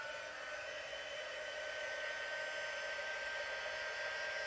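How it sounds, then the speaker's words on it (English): A heat embossing tool blows hot air in a steady, constant hiss-like whoosh with no breaks, close and fairly loud, used over gold leaf on a floral artwork. "I just bring in my heating stick, and I just put it all over it"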